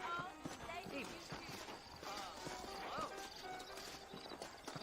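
Horse hooves clip-clop in the Western game Red Dead Redemption, a steady trotting rhythm close by, with a horse whinnying and someone talking over the in-game sounds.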